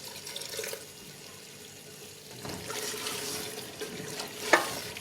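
Water is poured into a pan of mutton korma gravy as it cooks, a soft liquid splash and trickle with light sizzling, ending in a brief clink, close and fairly quiet with no talk.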